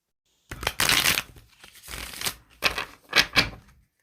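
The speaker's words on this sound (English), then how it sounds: "Miss Cheri, I think I could use a hand here to shuffle these cards." Playing cards are riffled and shuffled in several quick, crisp bursts, close by, with short pauses between.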